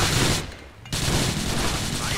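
Gunfire in the video game GTA The Lost and Damned: a dense, loud burst of shots and game action, a brief drop near the start, then sustained noisy combat.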